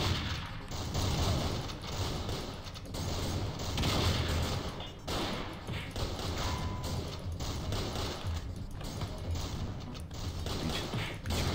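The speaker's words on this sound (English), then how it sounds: "hit him with your shotgun" Shotgun blasts and other gunfire in Madness Project Nexus combat arena pound steadily in loud, close bursts, one after another without pause, with a faint hint of speech.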